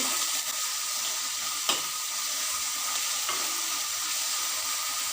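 Nugge soppu (drumstick leaves) frying in a pan with a steady sizzle, a spoon stirring through it and one sharp scrape partway, no voices.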